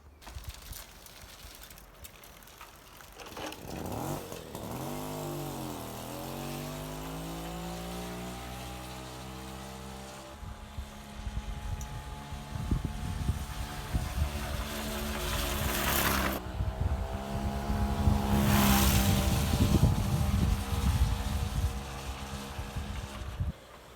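A 1967 Mobylette AV 49 moped being restarted after cleaning: a buzzy two-stroke engine catches and rises in pitch, settles into a steady idle, then revs harder and louder toward the end.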